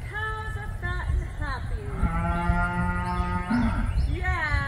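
Several cows on a homestead moo loudly and close by, a series of long drawn-out lowing calls with short breaks between them, over steady outdoor background noise.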